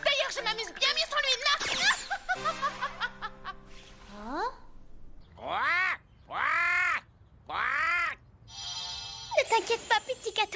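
A cartoon bird caws and squawks in a few drawn-out, rising-and-falling calls after snatching an omelette, mixed with animated chattering and laughter.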